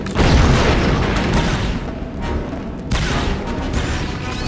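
A grenade explodes in Star Wars Republic Commando, a loud deep boom at the start with heavy rumbling debris and a second burst partway through.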